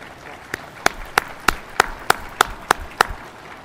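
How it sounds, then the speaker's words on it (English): Sharp, distinct handclaps ring out in a slow, even beat, roughly three per second, over faint background murmur, at a community college commencement ceremony. "let's give them a round of applause"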